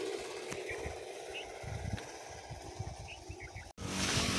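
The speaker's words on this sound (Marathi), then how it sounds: "तर अशी फवारणी चालू आहे मित्रांनो." A small engine-driven crop spraying pump runs in a cotton field. It makes a steady, fairly close motor drone with a pulsing low throb throughout.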